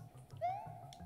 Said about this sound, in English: he's an orange cat